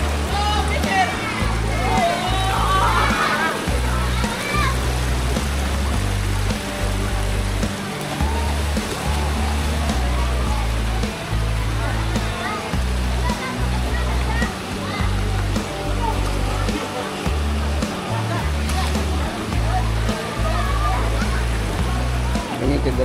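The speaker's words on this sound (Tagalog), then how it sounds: "mga nagagaling lang sa bukal." Spring water flowing and splashing at Maambong Spring in Garcia-Hernandez, Bohol, a continuous rushing under people chatting and a strong low rumble throughout.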